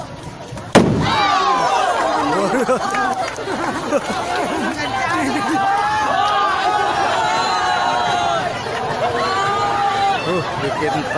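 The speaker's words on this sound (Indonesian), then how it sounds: "Bikin terkejut aja suara meriam bambu." A bamboo cannon fires at an independence day parade in Bukittinggi: one sharp, loud boom near the start, followed by steady crowd chatter and overlapping voices.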